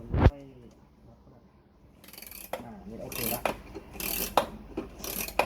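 A special winding tool turned to wind the mainspring of an antique clock, giving a series of rasping, ratcheting clicks in uneven bursts after a sharp knock and a quiet pause.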